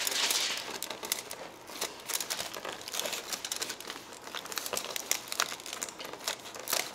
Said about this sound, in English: So I'm just taking aluminum foil, running my finger along the trailing edge.